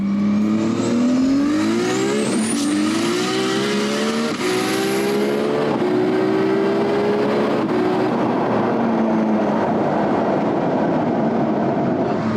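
Nissan R32 Skyline GT-R with an RB32 engine and a Garrett G45-1500 turbo, tuned to about 1,000 horsepower, accelerating hard on the road. The engine revs climb loudly through several gear changes, with brief tire squeal, then settle into a steady roar.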